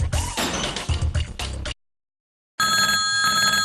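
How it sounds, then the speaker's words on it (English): Telephone bell ringing with a steady electronic warble after a short silence, following a burst of crashing, clattering noise; loud and close, no talk over it. "A doctor's phone rings."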